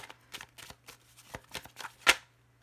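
Tarot cards shuffled by hand in a quick series of crisp riffling flutters, close and clear, ending in a sharper snap, with no talking.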